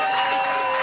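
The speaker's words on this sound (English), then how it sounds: "Big round of applause." A morning event audience applauds a DJ, a brief, loud, dense wash of crowd noise with a steady tone running through it.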